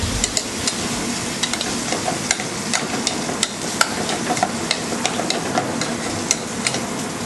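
Rack of lamb, pistachio-encrusted, sizzling steadily in a hot pan, a constant close frying crackle with scattered sharp pops and spits throughout, no voices.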